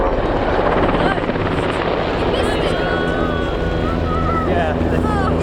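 A German Army Aviation helicopter hovers at an airshow, its loud continuous rotor thrum and whining turbine close by, with outdoor wind noise and some talk underneath.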